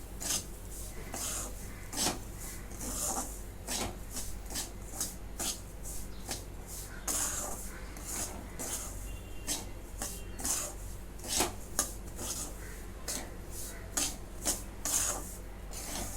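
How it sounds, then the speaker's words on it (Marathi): Semolina (rava) roasting in a pan over low heat, stirred steadily so a dry rasping scrape repeats in a quick rhythm at a soft level, with no talk. "आता ह्याच्यामध्येच रवा घेते आता रवा भाजून घेते"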